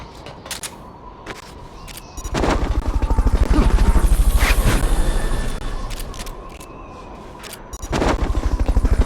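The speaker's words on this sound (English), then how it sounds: "Fulton recovery helicopter is complete." A Fulton recovery helicopter in the Metal Gear Solid video game roars with loud, continuous rotor thumping and engine noise, swelling and fading, punctuated by sharp clicking and popping sounds.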